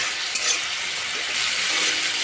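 Dry spice masala with a splash of water is stir-fried in a pan, giving a steady bright sizzle with soft stirring scrapes throughout, close and continuous, with no talking.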